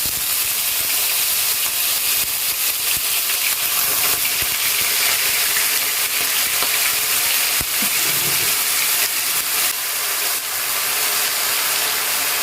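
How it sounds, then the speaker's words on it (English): Pepper fries in hot oil over high heat, a loud continuous close sizzle with crackles and occasional clicks and knocks, no voices. "Wait for the oil to hot a little, then you start frying your pepper."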